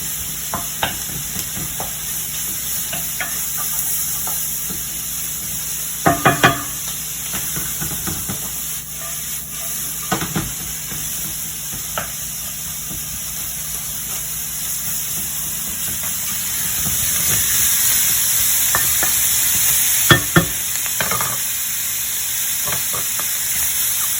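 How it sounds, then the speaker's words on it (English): Turkey bacon and mushrooms fry in a pan with a steady sizzle and hiss, broken by several sharp scraping clicks as a utensil stirs them, with no talk over the sound. "I'm going to give this a stir"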